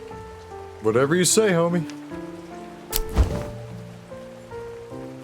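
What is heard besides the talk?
rain falling in Cabernet video game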